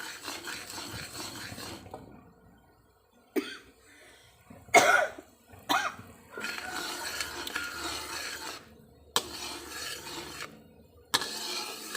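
Coughing fits from someone caught by fumes of dry-roasting chilies while cooking sweet fish-sauce dip with tamarind and sugar, several sharp bursts spread across the stretch between quieter kitchen sounds, no talk.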